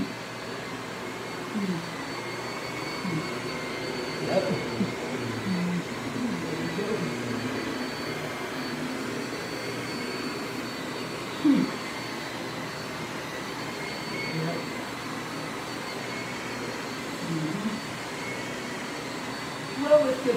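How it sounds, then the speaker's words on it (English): A vacuum cleaner runs on carpet with a steady, even drone throughout, while a person talks over it and brief knocks break through now and then. "This vacuum is a very good way to clean up carpets"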